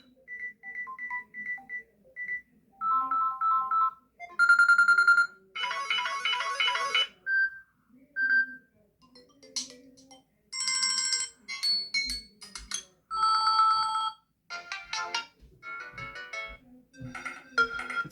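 Samsung Galaxy phone ringtones, from models like the Galaxy A14 5G and A06, play one after another as short melodic bursts of bright chiming electronic tones separated by brief pauses.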